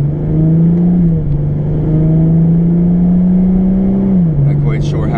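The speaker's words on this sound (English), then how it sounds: "Maybe we get to listen to the car a little bit anyway." A car engine drones steadily from inside the vehicle, its low pitch holding even and then dropping slightly as it shifts, with faint sounds at the end.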